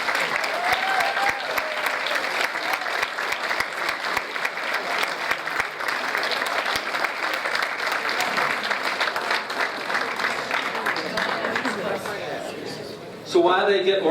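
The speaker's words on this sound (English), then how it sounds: "A round of applause." Sustained applause from a crowd at a 50th anniversary community action celebration honoring award winners, dense steady clapping throughout, with a voice breaking in near the end.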